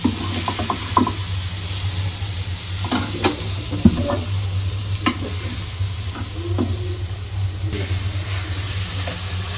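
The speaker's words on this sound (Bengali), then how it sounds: "মাছটা কড়া করে ভাইজে দিচ্ছি" Fish frying crisp in a pan of oil in a home kitchen, a steady close sizzle and hiss running throughout with scattered clinks and stirring knocks over a low background hum.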